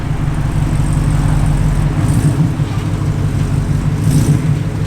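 A Ford truck's engine runs as it drives up a ramp, a loud steady low rumble that holds throughout with slight swells, alone without talk.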